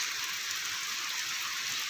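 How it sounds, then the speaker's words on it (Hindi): Heavy early-morning rain at 4:30, a steady dense hiss of falling water with no pauses, loud and close. "देखो बारिश"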